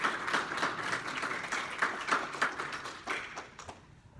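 Applause at a book launch for the people who helped produce the book, a small crowd giving moderately quiet, rapid clapping that tapers off toward the end.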